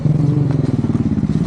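A new motorcycle's engine runs close by, a loud steady idle with a fast, even pulsing throb and no voices over it.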